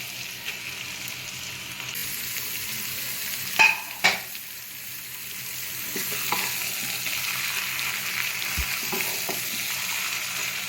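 Marinated mutton frying in oil with browned onion and garlic, giving a steady close sizzle throughout, broken by a couple of sharp utensil knocks and soft stirring sounds.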